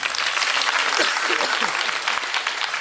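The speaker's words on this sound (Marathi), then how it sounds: "यांना टाळ्या वाजवा सगळेजण." Audience applause for four musicians at a devotional kirtan gathering, dense, steady clapping from a crowd with some voices mixed in.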